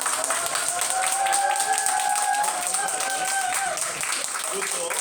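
An audience of parents at a school admissions talk claps and calls back a greeting, steady dense clapping under a voice and crowd responses, fairly loud and continuous.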